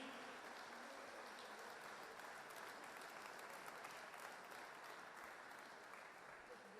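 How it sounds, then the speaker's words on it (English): An evening audience at a Leinster final preview night gives steady, full applause for the hosts, dense clapping that holds at an even level throughout. "A round of applause for our two gentlemen, our hosts this evening."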